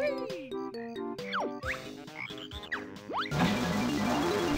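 A frog croaks in Banjo-Kazooie, with a few cartoonish croaks and sliding chirps mixed with game music, ending in a denser burst of sound.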